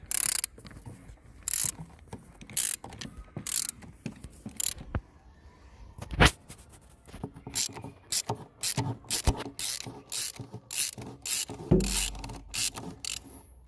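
Socket wrench ratcheting while unscrewing a part during an oil change on a Mercedes A 170 CDI W168, bursts of sharp rapid clicks in irregular runs with short pauses, close up and no talking.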